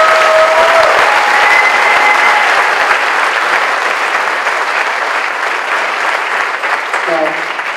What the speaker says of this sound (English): One more set of applause for everyone.